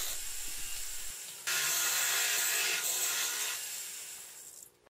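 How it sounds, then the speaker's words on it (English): A jeweler's saw rasps steadily through metal, a continuous bright scraping that starts after a second of quiet, runs loud and close, then cuts off. "I took a jeweler's saw to it."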